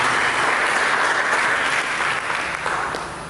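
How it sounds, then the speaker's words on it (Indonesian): A church congregation claps together in sustained, dense applause during a sermon, loud and close, holding steady before tapering slightly toward the end. "Mari kita tepuk tangan."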